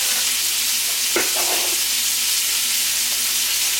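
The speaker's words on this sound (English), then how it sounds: "once the bacon is all nice and browned, add your onion. Just right in with the bacon grease and everything." Onion frying in bacon grease in a pan, a steady close sizzle and hiss with one brief stir or clatter partway through, no voices.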